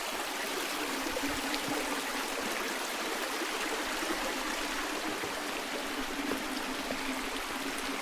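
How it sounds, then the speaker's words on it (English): Creek water flowing beside a mountain hiking trail near a small bridge, a steady, even rush and trickle heard alone, close but fairly soft. "I forgot about this magical creek on the way up"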